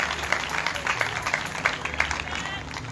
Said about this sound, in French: Est-ce que vous voulez applaudir mon Dieu plus fort toujours?